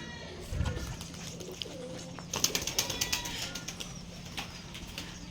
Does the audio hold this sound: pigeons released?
yes